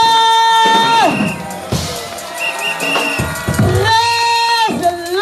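A church congregation cheers and acclaims with loud whoops and long, sustained high-pitched cries that rise and fall, filling the hall in waves.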